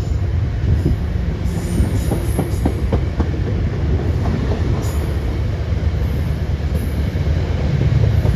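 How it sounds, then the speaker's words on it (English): Amtrak train arriving at Croton-Harmon station in New York: a loud, steady rumble of rail cars with rhythmic wheel clicks and occasional high squeals, close by and without talk. "Here comes Amtrak."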